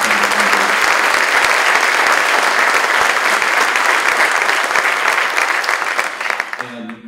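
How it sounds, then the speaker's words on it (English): An audience applauds at a 100th anniversary celebration event for the North Carolina transportation department, dense sustained clapping from a large crowd that stays loud throughout and thins out only at the very end. "let's give a round of applause for everyone"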